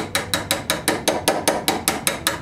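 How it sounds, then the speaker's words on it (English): Chiseling hardened solder flux off a repaired Stanley Bailey No. 4 hand plane produces about a dozen crisp, evenly spaced metallic strikes in a quick, regular rhythm, close and clear with no talk. "What I'm chiseling off here is the flux, and it does come off with a file"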